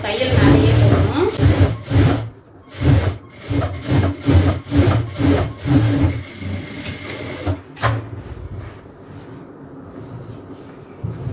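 A sewing machine stitches shorts fabric in a tailoring class, running in short repeated rhythmic bursts of mechanical whirring up close, then pausing as the run ends.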